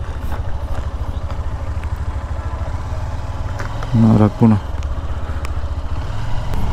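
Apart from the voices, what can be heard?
motorbike engine idling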